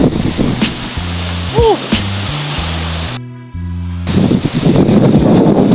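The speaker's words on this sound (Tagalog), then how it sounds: "Grabe ang alon mga idol at hangin. Malakas." Strong sea waves and gusty wind roll in at an island shoreline, a loud rushing wash with wind buffeting the microphone, briefly interrupted midway before the surf surges back.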